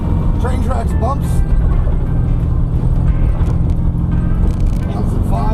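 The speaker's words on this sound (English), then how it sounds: "Train tracks bumps." A 1972 VW Super Beetle rolling over train track bumps, its engine rumbling low and steady with a few brief thumps and rattles early on, close and fairly loud.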